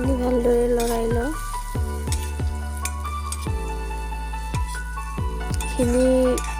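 Ginger garlic paste sizzles in a hot pan while being stirred, a steady frying hiss broken by repeated scraping strokes of a spoon, close and moderately loud.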